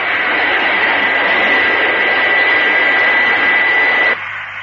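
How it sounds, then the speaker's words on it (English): Loud, steady jet engine roar of a Fireflash airliner climbing into the sky, a broad sustained rush with a high whine on top that drops abruptly near the end. "The powerful jet engines lift the Fireflash airliner effortlessly into the sky."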